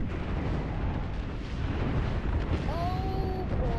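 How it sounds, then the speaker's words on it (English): Airstrike explosions in a World War II-style shooter game roll on as a dense, continuous low rumble of blasts, loud and sustained, with voices talking over the din. "Heads up, we got an airstrike on us."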